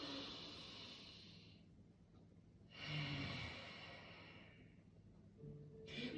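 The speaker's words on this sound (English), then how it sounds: "we actually make some noise through our throat as we're breathing out" Slow breaths exhaled through a slightly constricted throat make a soft, hissing, ocean-like rush, two long faint exhalations with quiet inhales between, alone and close.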